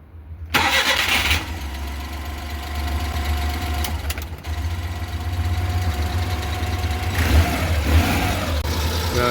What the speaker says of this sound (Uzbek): Damasimiz tayyor bo'ldi. Endi zavodga tiqib qo'yamiz.